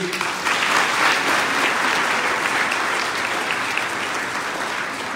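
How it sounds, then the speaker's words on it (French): A church congregation at Sunday Mass claps warmly for the parish childcare team, a full, even burst of many hands that holds steady throughout. "On peut les applaudir."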